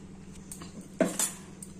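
A utensil scrapes and clinks against a pan while stirring a chicken and flat-bean (chikkudukaya) curry with garlic, a couple of short metallic knocks over quiet background.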